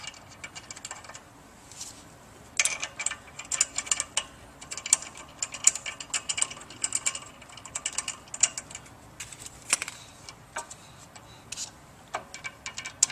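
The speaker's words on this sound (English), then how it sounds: "we'll just begin inserting the bolts" A ratchet tightens bolts on the coupling of a Pentax vertical pump, heard as bursts of quick, faint clicking strokes with short pauses between them, close by in a quiet room.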